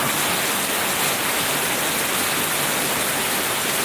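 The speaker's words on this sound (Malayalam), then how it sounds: "പരിസരമാകെ മഴയാണ്" Heavy rain pours down steadily in Oyoor, Kollam district, Kerala, a dense, unbroken hiss that stays loud and close from start to finish.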